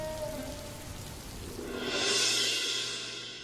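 Steady rain pours down in a cartoon village scene, a dense continuous hiss that swells louder toward the end, with no voices.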